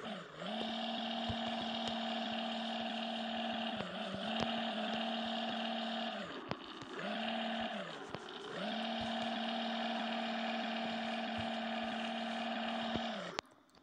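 A car engine in the Car Parking Multiplayer game revs hard while drifting, holding a loud, steady, buzzing drone that dips and rises again several times across the run.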